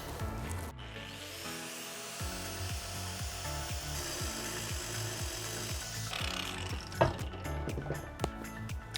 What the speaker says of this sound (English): it's time to get on a blade on your 4-inch grinder. I'm using the TVA SuperPro from Rubi